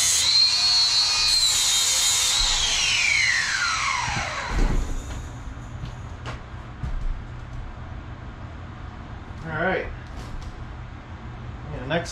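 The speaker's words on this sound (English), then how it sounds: "I just take a thread chaser down it." A thread chaser run down a threaded part gives a loud, steady tool whine that slides downward and fades over the first few seconds, then quieter scrapes and clicks follow in the background.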